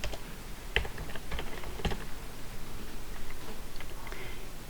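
A computer keyboard is tapped in a quiet room, with a few crisp, scattered key clicks and two sharper presses standing out, as when pressing Ctrl+Shift+C.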